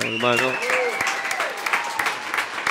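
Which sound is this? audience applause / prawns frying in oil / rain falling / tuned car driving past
audience applause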